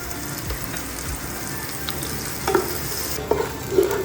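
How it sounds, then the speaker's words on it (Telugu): Chopped onions frying in a hot pan with green chillies, a steady close sizzle throughout, joined by a few stirring scrapes near the end. "నెక్స్ట్ అయితే చాప్ చేసుకున్న ఆనియన్స్ అయితే యాడ్ చేస్తాం"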